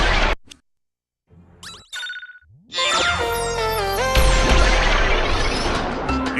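A time-slowing weapon fires in Ratchet and Clank: All 4 One, with sharp crashing impacts and chiming tones, a brief quiet gap, then a loud sweeping blast that swells and rings on to the end.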